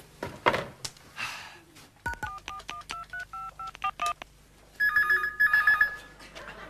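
A telephone being dialed for a call, with a sequence of distinct touch-tone beeps in an uneven rhythm, preceded by a rattling handling noise and followed by a burst of ringing tones, close and fairly loud with no talk.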